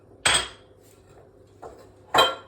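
A spoon knocks against a bowl while a TVP mixture with oil and maple syrup is stirred, three separate sharp clacks with quiet gaps between them.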